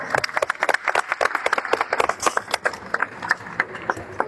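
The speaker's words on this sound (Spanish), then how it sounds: "le damos un aplauso para que nos haga favor" An audience at a tribute event claps in a sustained round of applause, sharp overlapping hand claps at a brisk, uneven rhythm, moderately close and loud throughout.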